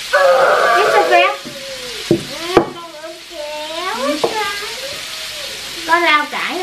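Battered food (shrimp coated in flour and egg) frying in hot oil sizzles steadily, with stirring and clinks, while a person talks over it nearby.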